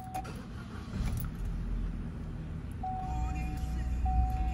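A 2012 Chevrolet Cruze ECO with a 1.4 engine, a faulty PCV valve cover and a P0171 lean code, idles with a steady low rumble. A faint whine rises later, and quiet talk can be heard.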